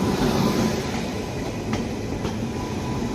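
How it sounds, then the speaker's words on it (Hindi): Azimabad Express hauled by a WAP-7 electric locomotive arriving at platform 1 of Patna Sahib station, a loud close rolling rumble of wheels and coaches with a couple of faint squeals, no talk. "अजीमाबाद एक्सप्रेस वेब 7 लोकोमोटिव के साथ। अराइवल ले रही है अपनी पटना साहिब के 1 नंबर प्लेटफॉर्म पर"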